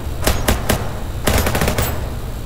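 Guns firing in the People Playground video game: a rapid string of sharp, loud gunshots in two quick clusters, the second a dense burst of about six shots, with no talking.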